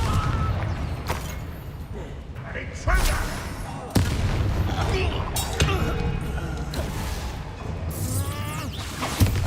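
Explosive spell blasts in Hogwarts Legacy, including Confringo, go off as sharp booms and crackling bursts amid magical whooshes and clinks, several distinct impacts spaced across the scene with occasional game voices underneath.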